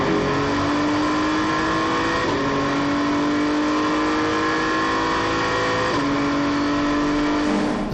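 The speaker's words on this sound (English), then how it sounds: "Valentino Rossi in the 46 BMW inside Yasser Shaheen" GT3 race cars at speed on the Lusail circuit in Qatar during the 1812 km endurance race, a continuous loud engine roar with rising pitch sweeps and two gear shifts, alone without talk.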